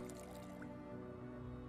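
Drinking from a water bottle in Project Zomboid, a short liquid gulping and dripping effect under a steady, loud tonal game background.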